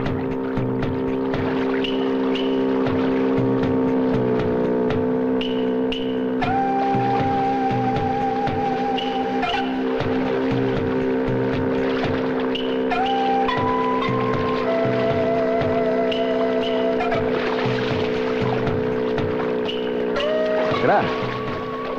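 A boat out on the open sea, its steady engine drone carrying throughout with wind, loud and constant under voices and tonal sounds.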